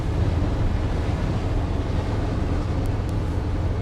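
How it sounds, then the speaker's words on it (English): Steady, loud wind buffeting the microphone during a cold front, a continuous broadband roar with no speech. "So windy today here with this cold front coming"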